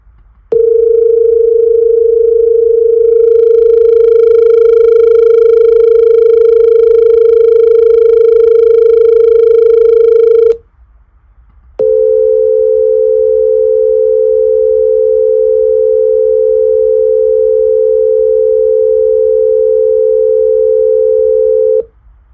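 Two detuned accordion reeds sound together as a steady sustained tone with audible beating, holding about ten seconds, breaking briefly, then resuming with the reeds set farther apart for a clearer, smoother interval.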